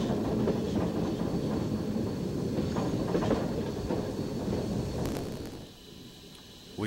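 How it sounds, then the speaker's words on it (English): A train backing up a switchback on the Cass Scenic Railroad rumbles steadily with low, rolling wheel and engine noise, fairly loud and continuous, easing off briefly near the end. "The train has now reversed and is backing up the switchback."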